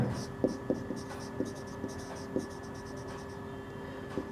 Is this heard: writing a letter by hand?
yes